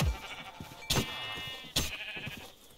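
Sheep in the modded Minecraft game RLCraft bleat twice, about a second apart, each a sharp wavering cry that trails off, clear and near with no talk.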